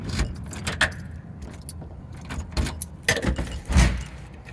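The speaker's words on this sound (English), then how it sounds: "We have 5 sets of locks, which means we have to try 5 different keys." Metal keys jangle and clink in bursts while being tried one after another in the locks of an apartment entry door, close and fairly loud, with small handling knocks between.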